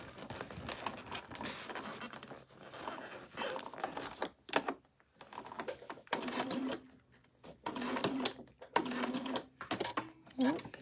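A domestic sewing machine stitches a fabric bag made from a unicorn pattern, its motor whirring in steady runs broken by short pauses as the bag is turned, with a voice talking faintly over it.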